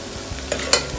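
Ginger and garlic fry in a pan with transparent onions for sprouts pulao, giving a soft sizzle, a light stir and a couple of brief scraping clicks over one second.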